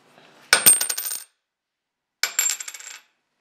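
A couple of metal coins dropped onto a table, each landing as a bright clattering burst of rings and bounces, the second drop following after a short silence.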